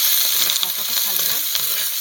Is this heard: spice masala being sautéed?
yes